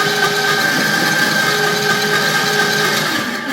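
A homemade cutting tool driven by a toy car motor runs steadily nearby, a constant loud whine and buzzing hum with no pauses, alone without talk.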